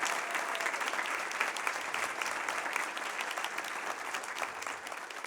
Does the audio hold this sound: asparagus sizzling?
no